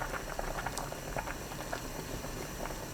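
A pot of saury and egg soup at a rolling boil, bubbling and popping continuously at close range, a steady liquid patter with no talking.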